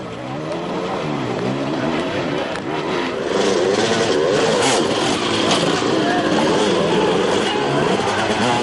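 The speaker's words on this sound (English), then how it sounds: "In these conditions, the factory gas bike was simply awesome." A GasGas factory enduro motorcycle engine during a World Enduro Championship round in Wales, revving and droning steadily at close range under commentary, rising and falling in pitch throughout.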